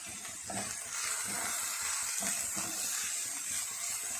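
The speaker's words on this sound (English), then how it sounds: "And we'll fry a little bit more" Chopped green chilies frying in a pan for gobi manchurian, a soft steady sizzle and hiss close by, quiet and continuous with faint stirring.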